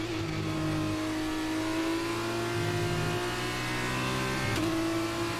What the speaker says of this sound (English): Oh god. Cars are coming up behind me.